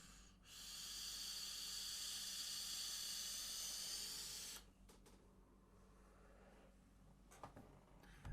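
A Kangertech Protank 4 vape at 50 watts with a 0.6 ohm coil and open airflow gives a long, steady airy hiss of inhaling for about four seconds, then quieter clicks and soft breathy sounds.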